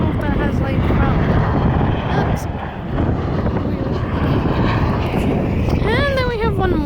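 A landing airliner, a Southwest jet at an airport, roars loudly and steadily with heavy wind buffeting the microphone, and a rising engine whine appears near the end.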